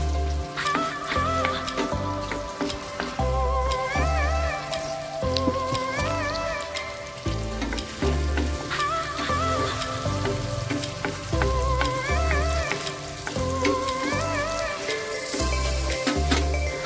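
Ginger and garlic sizzle steadily in a hot pan, a continuous frying hiss running under a rhythmic musical backing with no talk.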